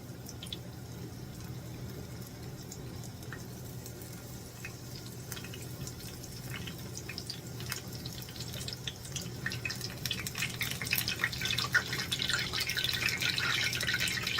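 Onion fritters frying in hot oil with water trapped in the onion popping, a steady sizzle under faint crackles and sharp little pops that grow denser and louder toward the end.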